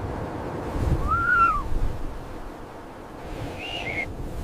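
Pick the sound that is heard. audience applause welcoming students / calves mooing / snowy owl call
snowy owl call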